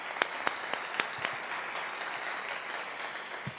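Audience applause for Ken McElroy at a Spanish-language real estate event in Colombia, a moderately faint, steady wash of clapping with a few sharper claps standing out near the start and end.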